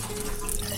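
Water splashes and drips briefly as it is poured into a household appliance before it is switched on, a short close liquid sound with no talk.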